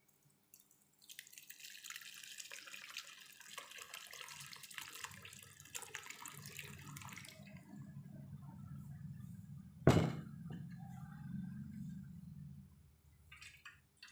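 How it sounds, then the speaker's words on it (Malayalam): Homemade strawberry wine is poured through a cloth strainer, producing a steady liquid trickle and splash that runs for several seconds, with a brief louder clink partway through. "വീണ്ടും വൈനെ നമുക്കിതിലേക്ക് ഒഴിച്ചു കൊടുക്കാം"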